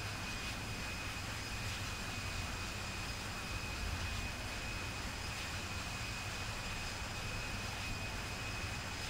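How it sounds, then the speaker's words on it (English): Airplane engine in the Infinite Flight flight simulator game, a steady broadband roar with a faint whine, continuous and even throughout with no talk. "it doesn't drown out my voice and it doesn't compete with the airplane and the game sounds"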